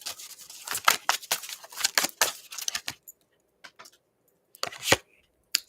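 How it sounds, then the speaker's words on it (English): Tarot cards being shuffled by hand in a quick series of crisp riffling and slapping bursts, close and fairly loud, with a pause before a few final snaps. "I'm gonna shuffle."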